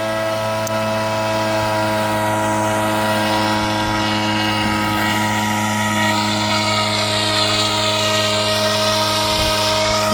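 An unmanned boat sprays mid-season herbicide over a rice paddy eleven days after transplanting, its motor droning in a steady, buzzing hum that stays loud and close the whole time.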